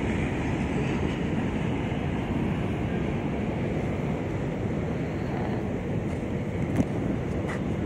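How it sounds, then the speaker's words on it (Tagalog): An LRT Line 1 light rail train runs past the open space by Rizal Park in Manila, a steady, loud rumble with wind noise that continues for the whole stretch, with no voices. "LRT"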